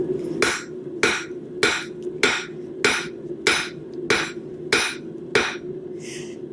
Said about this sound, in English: a heavier hammer strike will reduce the height and width